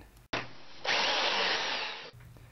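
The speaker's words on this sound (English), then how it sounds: "drill a hole into it using a 1/2-inch drill bit" A nearby drill with a 1/2-inch bit spins up and bores steadily into metal held in a vise for under two seconds, a harsh grinding whine, then cuts off abruptly.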